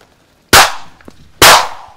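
Two sharp, loud shotgun blasts about a second apart while pheasant hunting, each with a quick rising crack and a fading outdoor tail.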